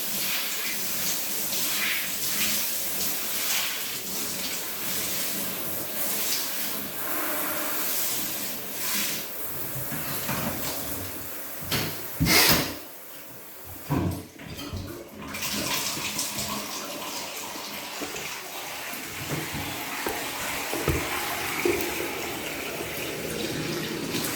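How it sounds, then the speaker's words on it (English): Water runs steadily from a tap or shower, rinsing scrubbed bathroom surfaces with a continuous hiss and splash that shifts as the stream moves, and a brief break midway. "So I'm just going to use the water and wash off what I scrubbed."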